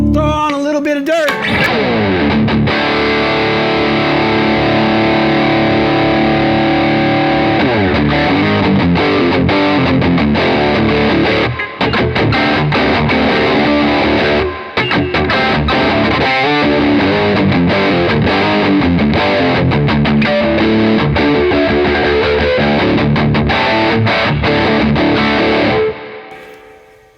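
Overdriven electric guitar through a Bad Cat Jet Black amp, a dense, continuous distorted riff played loud and close for nearly half a minute, then cutting off abruptly at the end.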